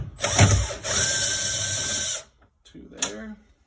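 A power drill backs screws out of a thermostat panel, running in two steady bursts, the first longer with a rough start, the second short, separated by a pause, close and fairly loud.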